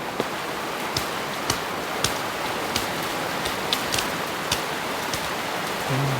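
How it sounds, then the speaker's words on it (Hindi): Steady rain hiss with scattered drops and taps striking a surface, loud and continuous through the stretch, with no voices present. "बाहर तो बहुत तेज बारिश है, तूफान है"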